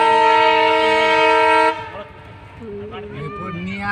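A diesel train's horn blares loud and steady for under two seconds, then cuts off, leaving rail rumble as people start talking nearby.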